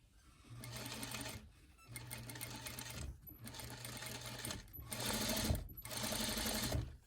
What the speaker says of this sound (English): as you sew bias tape, one of the most important things that you're supposed to do is give it a slight pull as you sew it